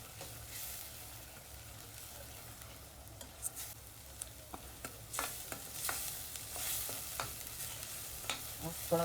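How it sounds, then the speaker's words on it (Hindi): Masala frying in oil for a soya chunks curry, a low continuous sizzle broken by soft stirring scrapes and small clicks of a spoon against the pan, fairly quiet. "मसाला अच्छी तरह से भुन गया अभी।"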